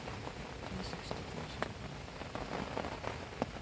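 Rain patters steadily on a surface at a campsite at night, with soft irregular drops and taps over a constant hiss, fairly faint and close.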